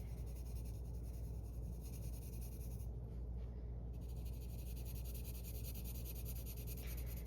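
IKEA colored pencils scratch across paper while coloring, a faint, continuous dry rubbing and scratching close to the microphone, with no talking.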